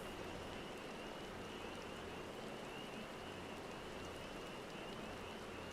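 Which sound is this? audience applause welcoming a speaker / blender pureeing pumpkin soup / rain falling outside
rain falling outside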